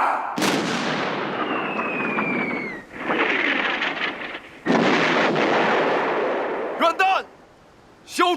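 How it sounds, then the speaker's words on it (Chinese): A warship's forward main gun fires in a dramatized naval battle from the First Sino-Japanese War at the Yellow Sea, with loud booming artillery blasts and rumbling decay, followed by brief shouted voices near the end. "前主炮！"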